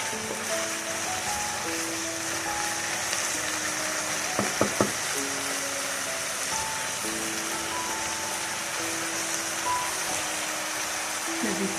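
Grated carrots and milk sauté for gajar halwa in a pan over raised heat, a steady soft sizzle and bubbling hiss with faint clinks, no speech.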